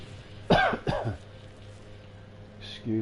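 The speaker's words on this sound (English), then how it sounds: "I'm trying to get rid of a cough." Two loud, harsh coughs in quick succession from a man with a lingering cough, close to the mic, followed by a quieter throat sound as talk resumes.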